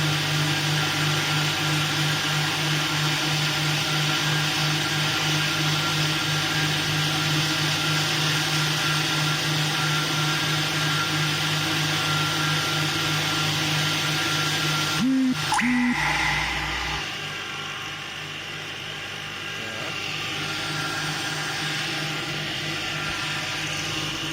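A 220-volt electric chaff cutter runs nearby with a steady motor hum and whirring blades, loud and constant; a brief knock and clatter comes around the middle and the tone drops slightly afterward.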